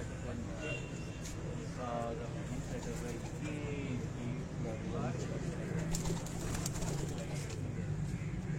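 Pigeons coo on a rooftop in Kasur, steady low throaty calls under continuous nearby talk and background hum.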